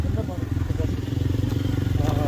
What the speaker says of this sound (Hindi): बाइक मांगती है पहला घेर।